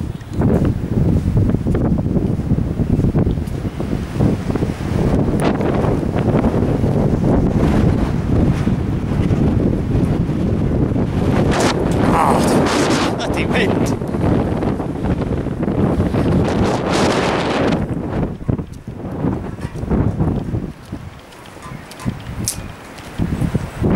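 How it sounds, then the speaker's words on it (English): Strong wind buffets a microphone outdoors on a walk around the grounds of the old North Wales Hospital, a steady loud roar of gusts and rumble with no talking. "Back out into the wind again"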